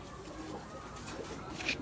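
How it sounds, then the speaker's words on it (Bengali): A male and female pair of high flyer line pigeons coo softly, a brief, faint, low murmur at close range with no talk over it. "নর মাদি দুটোটাই হাই ফ্লার লাইনের কবুতর।"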